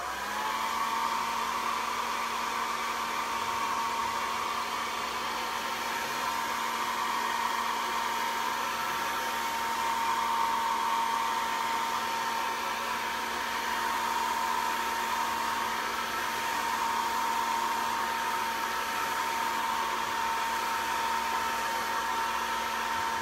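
A hair dryer blows steadily over a still-wet coat of paint on a thrifted piece, a constant close whirring hum with a stable motor whine, unbroken and alone throughout.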